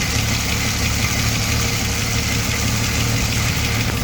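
A 1973 Ford Maverick engine running steadily after a fuel pump repair, a loud, even idle with a low throbbing rumble and constant mechanical hiss, no talk.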